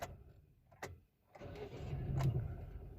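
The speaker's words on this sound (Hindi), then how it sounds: "आप लोग देख सकते हो गाड़ी स्टार्ट है।" A Hyundai car with a misfire and a replaced engine cranks and catches, then idles with a rough, uneven low rumble, heard close and fairly quiet with no talking.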